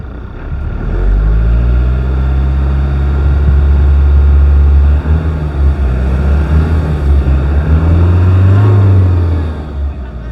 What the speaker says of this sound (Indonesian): Nih suara mesinnya, dia sudah halus, cuma ada bunyi tetek-tetek khas memang 2GD